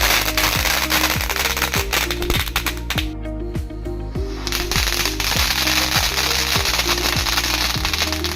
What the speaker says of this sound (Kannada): ಆಮೇಲೆ ನಮ್ಮ ಮಾವ ಮತ್ತು ಮನೆಯವರು ಇಬ್ಬರು ಸೇರಿ ಪಟಾಕಿ ಹಚ್ಚಿದ್ರು.